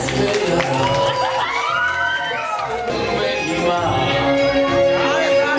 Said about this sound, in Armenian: եկեք ուղեկցեն ու ծափերը, ավելի բարձր։